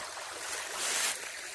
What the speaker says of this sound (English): Looks like we're going to be following this little creek.